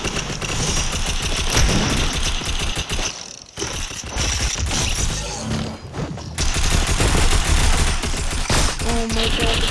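Blue SMG fire in Fortnite, rapid mechanical rattling bursts that are loud and close, stopping briefly in a few short gaps before resuming.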